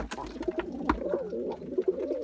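Several pigeons cooing close by in a loft, with repeated soft throaty coos overlapping in an uneven rhythm and no talk.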